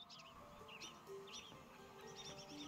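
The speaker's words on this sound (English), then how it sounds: "the birds could really shut up anytime" Chirps and tweets from several birds in the game Tiny Tina's Wonderlands repeat steadily over a low, constant ambient bed, moderately close and lively.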